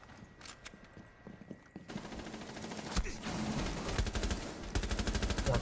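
Rapid automatic rifle fire in Rainbow Six Siege, bursts of close, loud gunshots with a quieter stretch at the start and dense volleys toward the end.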